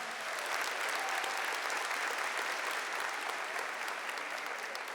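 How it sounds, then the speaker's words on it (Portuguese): An audience at a Catholic preaching event applauds, a dense, steady wash of clapping from many hands that continues evenly throughout, with no talk on top. "Pode aplaudir isso, gente, isso é história"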